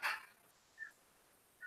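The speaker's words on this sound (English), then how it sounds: "And there's an excitable dog in the background." An excitable dog barks somewhere in the background of a quiet indoor room: one loud yelp at the start, then two short, fainter barks spaced apart.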